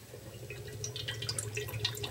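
Faint bubbling and gurgling of gas escaping from fermenting mead through a valve, small irregular pops over a low hum.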